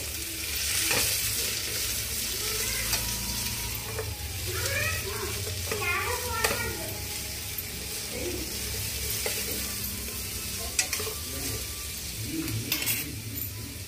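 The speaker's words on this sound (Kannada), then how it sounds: "ನೋಡಿ ಲೋ ಫ್ಲೇಮಲ್ಲಿ ಇಟ್ಕೊಂಡ್ಬಿಟ್ಟು ಈ ಥರ ತಾಳಿಸ್ಕೋಬೇಕು." Ridge gourd fries on low flame in a pan for chutney, a soft steady sizzle under repeated scraping stirs and occasional light clinks of the spoon against the pan, close and even throughout.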